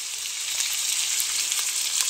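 Meat sizzles and fries steadily in a hot pan while being cooked for pancit canton, a dense, continuous crackling hiss that stays even and close throughout, with no talking.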